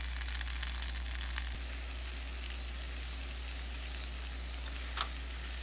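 Chiles roasting in a pan for a molcajete salsa give off a faint, even sizzle over a low steady hum, with a couple of small sharp crackles along the way.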